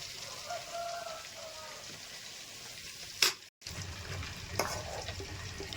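Eggplants frying in hot oil give a constant soft sizzle and bubbling hiss, broken midway by a sharp clatter and a brief dropout as pieces are lifted out.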